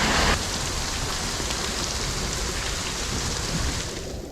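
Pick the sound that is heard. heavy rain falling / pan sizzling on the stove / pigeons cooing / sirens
heavy rain falling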